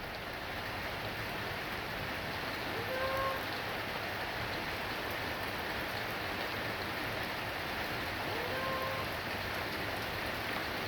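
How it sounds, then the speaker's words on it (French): Steady, dense rainfall hissing evenly throughout, a heavy downpour at the core of a summer thunderstorm shower, with no voices. "Sachant que là, on arrive dans le cœur de l'averse."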